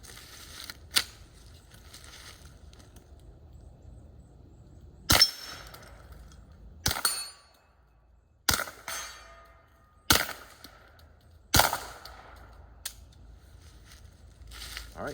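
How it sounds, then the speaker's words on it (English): Five or six suppressed rifle shots with Federal Syntech 150 grain subsonic ammunition, each a sharp, quiet crack with mechanical clatter, spaced one to three seconds apart against a quiet background. "last 5 rounds of the Federal Syntec 150 grain, again labeled as subsonic"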